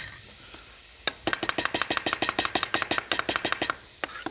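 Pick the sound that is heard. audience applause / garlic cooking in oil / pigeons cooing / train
garlic cooking in oil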